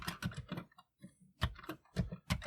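Typing on a VIC-20 home computer keyboard, Canadian model, heard as bursts of close keystrokes in uneven clusters with short pauses between.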